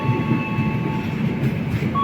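Bima New Generation passenger train easing to a stop at a station platform, a steady low rumble of rolling wagons with thin sustained wheel squeal tones running through it, no talking.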